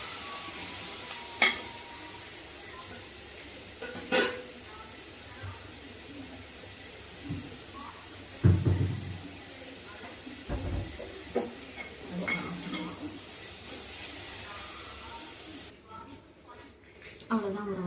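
Capsicum sizzles in a pan with garlic and cumin, a steady hiss broken by scraping stirs and a few louder clatters. Talk is heard briefly at times.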